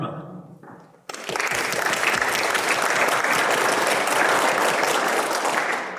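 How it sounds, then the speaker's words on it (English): An audience at a US naturalization oath ceremony bursts into applause for a country just called. A short spoken announcement comes first, then loud, sustained clapping from the crowd. "please recognize each country with a round of applause after it is called"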